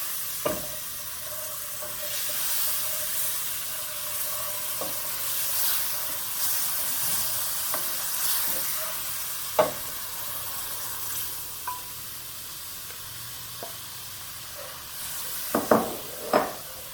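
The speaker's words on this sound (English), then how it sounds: "now I'm going to add my red" Red mole sauce poured a little at a time into a hot pan over a roux, giving a steady hiss and sizzle with stirring scrapes and a few sharp clinks of the utensil against the pan.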